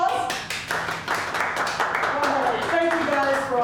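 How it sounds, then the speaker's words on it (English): An audience at an athletic awards ceremony claps in a room, scattered hand claps over background music and a voice, moderately loud and sustained. "Round of applause."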